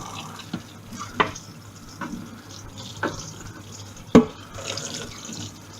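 Tap water runs into a pan left to soak in a kitchen sink, a steady close splashing stream with a few knocks and clinks of the pan.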